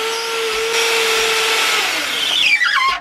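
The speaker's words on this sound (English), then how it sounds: "We drill these." A power drill whirs loudly up close, its motor pitch shifting as it bores into wood for a basketball catapult, then winds down at the end.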